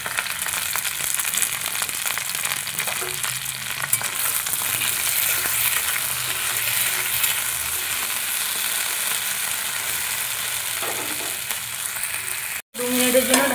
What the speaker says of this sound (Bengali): তো প্রথমে আমি ভেন্ডিগুলোকে ভালোভাবে ফ্রাই করে নেব।